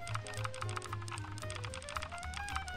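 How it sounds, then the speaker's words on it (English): Fast, steady computer keyboard typing during a Phasmophobia ghost-hunting game session, close and clear. Dense key clicks run over a low background hum and a soft tonal sound, with no speech. "It's my turn on the keyboard."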